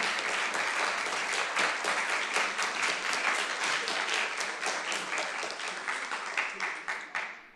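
Audience applauding three panelists at a hybrid panel on the United States Constitution and Puerto Rican society, a sustained dense round of clapping that fills the room for several seconds and thins slightly toward the end.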